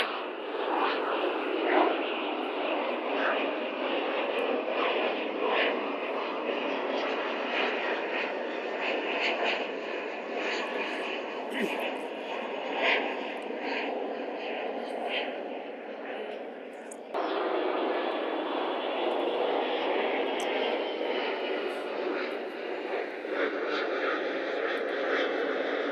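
A fixed-wing airplane passes overhead outdoors near trees, its steady broadband engine roar loud and continuous throughout, briefly dipping and then resuming.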